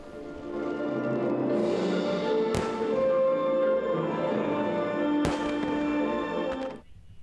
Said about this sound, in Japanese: 音楽に合わせて打ち上がる花火など1時間半の間無数の大輪の花が夏の夜空を彩りました